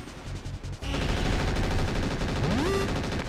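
Rapid gunfire from a MechWarrior 4 and Star Fox 2 crossover parody game bursts in loudly after a brief quiet start and keeps rattling steadily, with a rising electronic whine sweeping up near the end.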